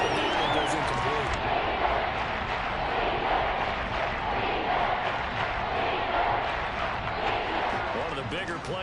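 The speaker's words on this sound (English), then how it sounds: "The crowd getting into it as we come up on a big third down" Stadium crowd roaring and cheering steadily throughout a Madden football game between the Eagles and Lions, building ahead of a big third down, with an announcer's voice running over the noise.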